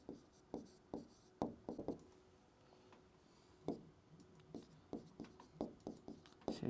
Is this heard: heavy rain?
no